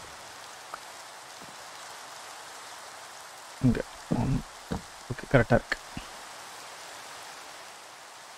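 Rain falling in the video game Minecraft, a steady, soft patter and hiss throughout, with someone talking briefly over it in the middle.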